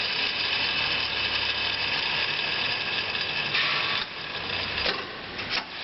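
An 11 x 18 inch Hardinge HLV-BK precision tool room lathe runs steadily at low variable speed, its motor and gearing whirring continuously with a small shift in tone near the end.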